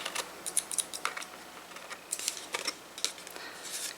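Paper being trimmed for a 6x6 ephemera folder, a quick series of crisp, close snips and clicks of a cutter blade in short irregular bursts, with no one talking.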